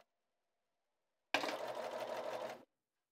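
A Bernina 530 sewing machine stitching a jeans hem, a steady rapid run of mechanical stitching lasting just over a second after silence, close and clear, with no voices.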